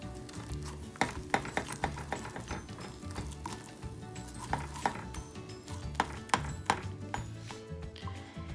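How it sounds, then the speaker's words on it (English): Scrambled eggs stirred in a pan, a soft steady scraping with irregular clinks and taps of the utensil against the pan, quiet and close with a faint sizzle beneath. "you want to just keep stirring until your eggs come together"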